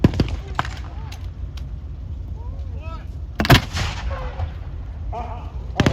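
WW2 battle re-enactment gunfire at Tankfest 2024 sounds as sharp cracks and one heavy nearby cannon blast, with scattered shots and engine rumble under faint voices.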